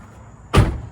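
A single solid car door slam rings out close by, one sharp thud that decays quickly against a quiet background, on an EK Civic.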